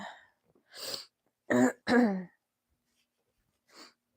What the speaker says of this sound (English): I apologize for my sniffles and I apologize for the cough.